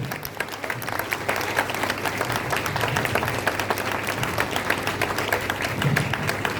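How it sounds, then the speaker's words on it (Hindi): An audience applauds at a DAV Foundation Day function, welcoming two ministers with a standing ovation: dense, steady clapping from a large crowd that holds at an even level throughout, with faint murmuring beneath. "मैं चाहूँगा कि जोरदार तालियों और स्टैंडिंग ओवेशन के साथ दोनों मंत्रियों का आप लोग स्वागत करें।"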